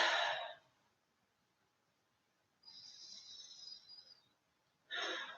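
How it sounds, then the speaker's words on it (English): A person breathes slowly in and out, a soft close inhale followed by a long airy exhale and then the start of another breath, with quiet pauses between. "So breathe in and out 3 times."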